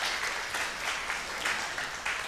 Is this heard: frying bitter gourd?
no